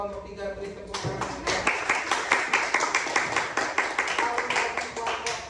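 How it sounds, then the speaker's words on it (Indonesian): A classroom of students claps for a group, starting after a second of murmur and settling into a lively, fairly close, slightly rhythmic patter of hands that continues steadily to the end. "Untuk kelompok 3 beri tepuk tangan."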